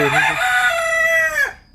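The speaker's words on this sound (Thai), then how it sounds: "เออไก่นี่ คันดีเลย" A rooster crows once at a rural village home in Laos, a loud, close, drawn-out cock-a-doodle-doo that trails off near the end, with no talk over it.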